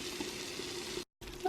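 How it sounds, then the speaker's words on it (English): Bacon heating in an Instant Pot until its fat renders gives a soft, steady sizzling hiss that is close and fairly quiet, broken by a brief silent gap before resuming. "Now I start to hear it sizzle a little bit."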